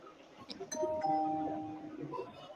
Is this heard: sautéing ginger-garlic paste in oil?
no